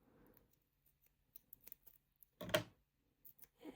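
Scissors cutting a piece of craft card in half, a few quiet snips and clicks ending in one sharper cut, close and faint.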